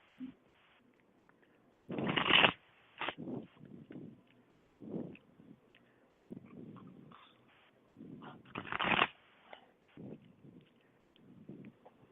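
Intermittent soft riffling and tapping of cards being shuffled nearby, with two louder fluttering bursts among quieter shuffles and pauses.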